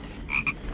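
A frog gives two short croaks in quick succession, the first longer than the second, close and fairly clear against a quiet background with no voices.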